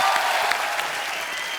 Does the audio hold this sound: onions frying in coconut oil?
no